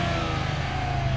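A boosted tuner car engine held at a steady, loud rev, a continuous droning exhaust note with no breaks and no voices.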